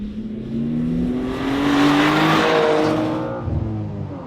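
A new BMW M2 passes at full speed on a track, its engine note rising and falling in pitch as it swells loud and then fades away.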